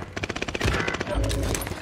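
Rapid bursts of automatic gunfire from a video game firefight, rattling fast and fairly close with heavy low thumps of explosions mixed in, running through the whole short stretch.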